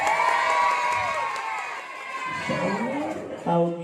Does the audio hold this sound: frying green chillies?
no